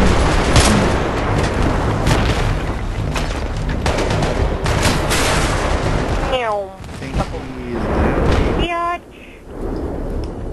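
Gunfire in the video game Battlefield 3 during a co-op mission, with loud continuous bursts and booming explosions that thin out toward the end while people talk over the action.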